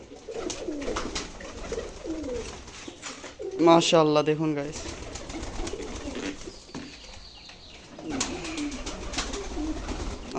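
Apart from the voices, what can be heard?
pigeons cooing while being fed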